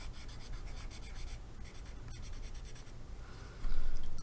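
Pencil on paper scratches and rubs in close, continuous strokes with a steady rhythm and no talk. A louder scrape comes near the end.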